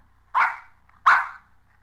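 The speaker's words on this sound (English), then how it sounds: "It's a mechanical dog?" A mechanical robot dog lets out two distinct barks about three-quarters of a second apart, each a loud, close, clipped bow-wow against a near-silent background with faint low hum.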